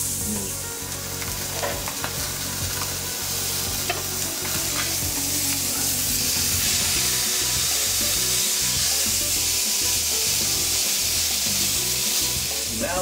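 A four-pound cut of prime rib sears in a hot pan with loud, continuous sizzling and crackling and occasional stirring scrapes, with no talking.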